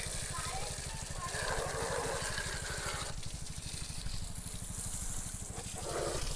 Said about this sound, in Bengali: বাইকটা খুব ভালো করে আগে ওয়াশ করে নিই